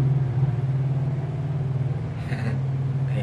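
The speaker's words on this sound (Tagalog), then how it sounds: "Maingay yung sasakyan." Car engine rumbling close by, a loud steady low drone that dips slightly midway, with a brief brighter burst of noise near the end.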